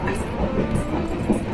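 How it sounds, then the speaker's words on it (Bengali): Netravati Express, a train of red and black coaches, rolls past close by with a loud steady rumble and rhythmic wheel clatter throughout. "এটা হচ্ছে নেত্রাবতী এক্সপ্রেস।"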